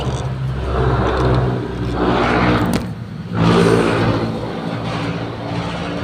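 A motorcycle ride with a loud, close engine drone and rushing wind, the engine revving up and easing off in uneven surges with a brief dip midway, no voices.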